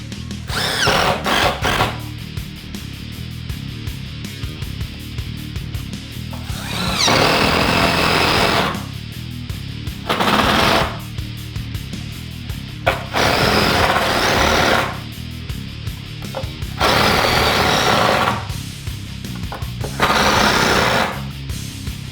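A power drill drives neck screws into a custom J-Bass body, its high whine coming in several separate bursts of one to two seconds with low rumbling pauses between them, loud and close.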